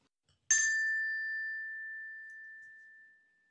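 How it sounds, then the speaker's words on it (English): A single bright bell ding struck once, clear and sustained, ringing out and slowly fading over about three seconds in a quiet setting, used as a page-turn cue in a read-aloud picture book. "Turn the page when you hear the bell."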